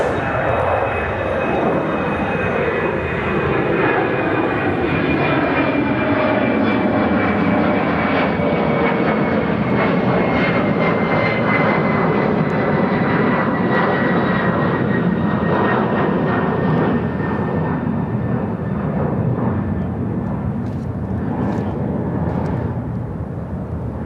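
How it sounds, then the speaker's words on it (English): An Austrian Boeing 787-9 Dreamliner, arriving from Vienna, lands at Chicago O'Hare on runway 27 center with a loud, sweeping jet roar and a falling engine whine. The sound passes close by, then trails off, with talk faintly underneath. "Now landing on 27 center, this is Austrian 65 coming in from Vienna on the 787-9 Dreamliner."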